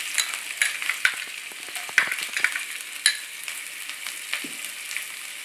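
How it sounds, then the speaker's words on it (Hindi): Finely chopped ginger and garlic crackle and sizzle in hot oil on low heat while being stirred for Gobi Manchurian, with scattered pops and spatters close by. "एक छोटा चम्मच अदरक बारीक कटा हुआ, इसको डाल लें, थोड़ा भून लें"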